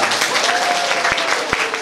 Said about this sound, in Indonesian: tepuk tangan dong buat Mantap.